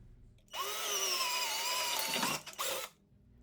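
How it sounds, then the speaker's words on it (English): A power drill whirs up and runs steadily for about two seconds while drilling a mounting hole for a press, then stutters briefly before stopping, close and loud. "drill the second hole while the press is in place"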